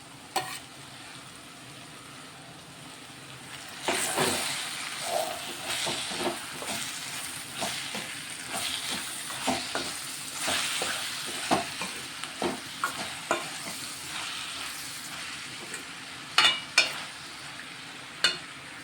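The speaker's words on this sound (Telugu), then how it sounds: "ఇప్పుడు ఇందులో అయితే టమాటాలు వేసుకుంటున్నాం." Tomatoes being stirred into a frying cabbage and chana dal curry: a steady soft sizzle runs under repeated scraping stirs, with a few sharp utensil clicks toward the end.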